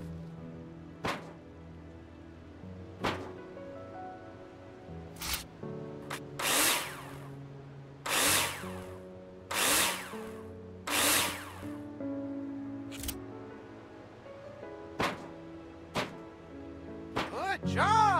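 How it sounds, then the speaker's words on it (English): Power drill driving screws into metal wall profiles during drywall framing in the construction game Builder Simulator, several short whirring bursts spaced a second or two apart over a quiet room-tone background. "Now place them in the hologram and screw them in with a drill."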